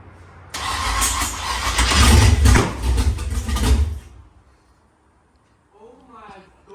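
A Pontiac Firebird engine cranks for about three and a half seconds with a loud rough churning roar, then stops abruptly. A voice speaks faintly afterward.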